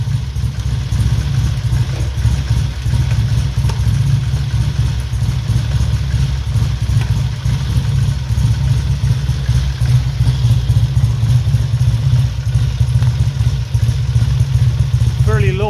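A 1968 Triumph T100C motorcycle engine ticks over at a fairly low idle, a steady loud low throb with mechanical clatter holding evenly throughout.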